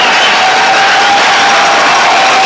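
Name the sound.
hockey crowd cheering after Binghamton Whalers victory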